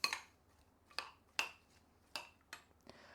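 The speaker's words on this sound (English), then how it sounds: "Just mix this all up." Apple, celery and lemon salad is tossed in a bowl, giving six faint, sharp clinks and scrapes of utensil against dish spaced irregularly over a few seconds in a quiet room.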